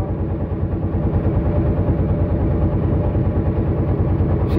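A trawler boat's engine runs on Kaptai Lake with a steady, loud, low chugging drone that holds without a break for the whole stretch, and no voices are heard over it.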